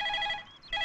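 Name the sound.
telephone ringing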